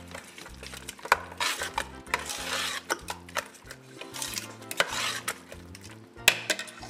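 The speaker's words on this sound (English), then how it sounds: "We're gonna give that a stir." A spoon stirs Jamaican beef patty meat filling in a pot, giving repeated scraping and clinking against the metal in an uneven rhythm, up close with faint music underneath.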